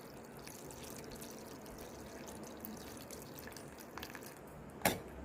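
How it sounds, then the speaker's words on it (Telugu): Water strained through a mesh sieve to separate butter pieces while making ghee from milk cream: faint trickling and scattered drips, with one louder splash near the end. "ఇప్పుడు వాటర్ని స్ట్రెయిన్ చేసేస్తున్నాను నేను మొత్తము"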